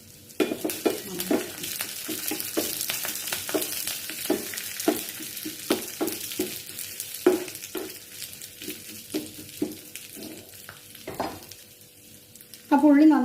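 Onions frying in oil in a pan with curry leaves rubbed in and added, a steady sizzle broken by frequent stirring scrapes and the clink of a utensil against the pot, close and fairly loud without talk.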